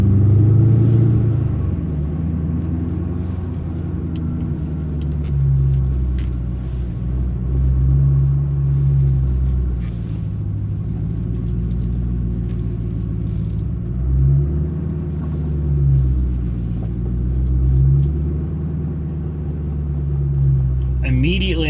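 A Ford Mustang GT engine rumbles low and steady while driving, its deep drone swelling and easing in slow waves as the car moves along, with no talk over it.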